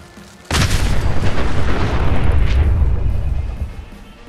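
A naval mine detonates with a sudden loud boom in a Fallout 4 battle, followed by a long rumbling roar of debris that slowly fades over several seconds.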